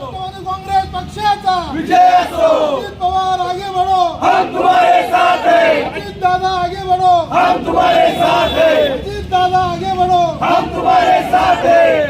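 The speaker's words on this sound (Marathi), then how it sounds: "फटाके फोडून व घोषणाबाजी करत आनंदोत्सव साजरा केला" A large crowd at a political victory celebration in Rajgurunagar chants slogans loudly in a rhythmic call-and-response, with repeated shouted phrases rising and falling every second or two over constant crowd noise.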